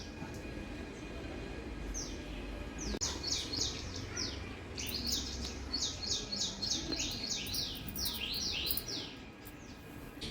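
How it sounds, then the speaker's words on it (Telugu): Many birds call from a tree in the morning near a house, with busy overlapping chirps and twittering phrases, fairly close and steady, over a low background rumble. "ఇక్కడికే చెట్టు మీదనే చాలా పిట్టలు ఉన్నాయి"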